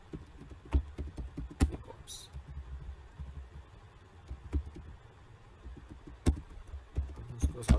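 Computer keyboard typing during an SQL lesson, with scattered single key taps and short bursts at an uneven pace, moderately close, with a few louder clacks and some quiet background noise.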